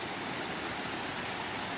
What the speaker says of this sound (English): The water flows all over.